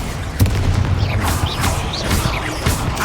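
A Confringo fire spell explodes in Hogwarts Legacy, with a sharp burst near the start and crackling, rumbling blasts that keep going loudly for about three seconds.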